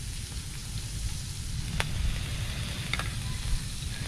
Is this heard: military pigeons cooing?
no